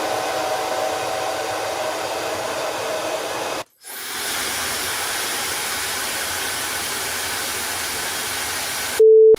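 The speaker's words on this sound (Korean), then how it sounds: "차이슨 헤어 드라이기는 선풍기를 좀 세게 튼 듯한 그런 느낌이 들더라고요." A bladeless hair dryer blows with a steady broadband whoosh like a strong fan, briefly cut off once and then resumed, ending with a short electronic beep.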